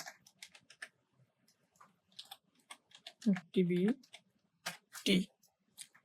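Bursts of computer keyboard typing, with quick close clicks arriving in short clusters, mixed with a person speaking in between.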